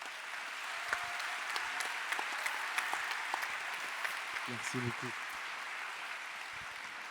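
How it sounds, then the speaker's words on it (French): Audience applause at a plenary session honouring a French N2 wheelchair rugby champion, a steady wash of many hands clapping throughout with a brief spoken thank-you near the end. "Ça s'applaudit, mesdames et messieurs."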